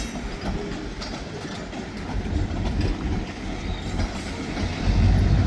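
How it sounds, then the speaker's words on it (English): Locomotives rolling in at a rural railroad crossing, a steady low rumble and rattle of wheels on track that grows gradually louder as the train approaches. "the train pulled in"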